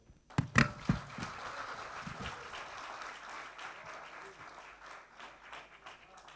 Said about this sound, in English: once again, let's give the Deputy Minister such a rousing round of applause